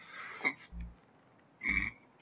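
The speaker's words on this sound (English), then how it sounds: "sorry for the burp" A person burps twice in quick succession, two short low rumbling bursts close to the mic, with faint background noise and no talking.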